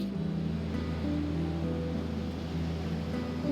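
Water washing back in around a small island as the tide comes in, a steady continuous wash with low rumble, fairly loud and without speech.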